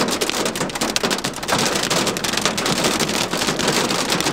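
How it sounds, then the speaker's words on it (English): Hail or heavy rain pelts down hard and close, a loud continuous rattling roar with dense clattering impacts and no voices. "Not even a minute in, but they started hailing."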